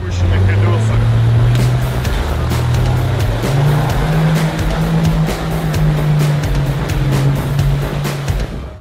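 A toy Jeep car gives off a steady, loud engine-like drone with shifting pitch for nearly nine seconds, while a voice talks over it.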